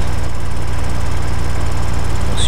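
A combine harvester's engine running hard at harvest time, a loud, dense, continuous drone with a steady low throb, close up and uninterrupted.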